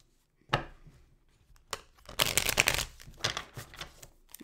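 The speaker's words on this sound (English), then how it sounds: "Let me get a shuffle." Tarot cards are shuffled in a few close, crisp bursts of riffling and rustling, with brief pauses between them and no talking.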